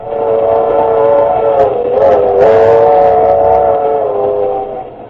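A steam locomotive's horn sounds a loud, sustained chord over the low rumble of rolling cars, holding steady for several seconds.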